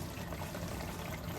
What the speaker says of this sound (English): the water's coming in here now.